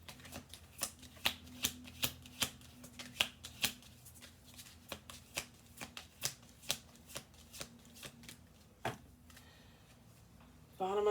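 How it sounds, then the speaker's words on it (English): Oracle cards are shuffled by hand at an even, unhurried pace. About twenty soft, crisp card slaps repeat in a steady rhythm, close and fairly quiet, ending with a faint shuffle. "I'll do one more shuffle"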